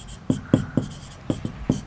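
Pen strokes on paper while geometry homework is written out: six short scratchy strokes in an irregular rhythm, close and fairly clear, with no speech.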